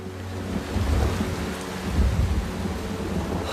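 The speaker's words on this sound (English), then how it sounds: "Don't you like rain, young man?" Heavy rain pours steadily while deep rolls of thunder rumble twice, close and loud, with no voices.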